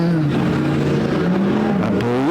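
Race cars roaring on the Perris Auto Speedway dirt track during a Democros main event, with a steady loud engine drone whose pitch climbs and falls, then rises sharply near the end as the car accelerates down the straightaway.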